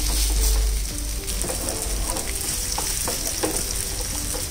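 Vegetable pancake batter frying in a hot pan, a steady close sizzle with scraping and clicking as the pancakes are turned, no talking.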